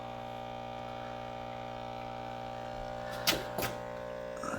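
Vacuum filter running while drawing silver refining liquid through, a steady electric hum and drone with a couple of brief hissing bursts near the end.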